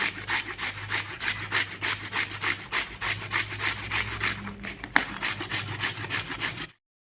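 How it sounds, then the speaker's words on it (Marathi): Radish grated on the coarse side of a grater in a home kitchen, steady rhythmic rasping strokes close up, stopping abruptly at the end. "आता मुळा किसायला घेतलेला आहे आणि जाड्या बाजूने आपल्याला किस करून घ्यायचा आहे"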